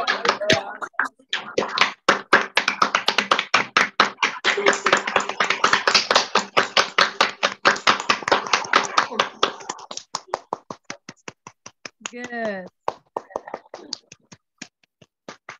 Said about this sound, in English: And start clapping.